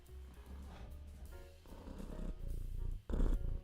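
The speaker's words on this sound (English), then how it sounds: "Maybe you can hear her purring." Cat purring close up, a low rumbling purr in uneven pulses that swells louder toward the end, with nothing else heard.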